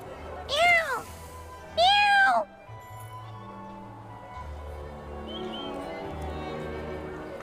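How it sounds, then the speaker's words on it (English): A cat in the Duet Night Abyss video game lets out two clear, close meows in quick succession, followed by a quieter stretch of low ambient game sound. "This cat keeps staring at Rhythm."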